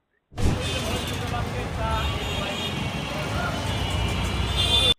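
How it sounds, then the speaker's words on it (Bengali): Dense road traffic fills a noisy street with a continuous, close rumble of cars and heavier vehicles. A voice seems to talk over the steady din. "একটা নয়েজপূর্ণ এলাকায় চলে এসেছি চারিদিকে প্রচুর গাড়ির নয়েজ হচ্ছে"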